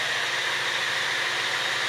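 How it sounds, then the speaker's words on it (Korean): A steady, broadband engine drone hums continuously with no variation, the 2.2-litre diesel of a 2015 Hyundai Grandeur HG heard from inside the cabin. "물론 디젤이라 디젤 소음이"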